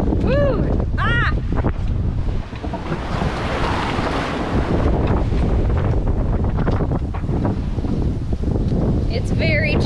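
Strong wind buffets a sailboat at sea as choppy waves slap and spray against the hull, a loud continuous roar with splashing bursts; a few high voices exclaim near the start and end.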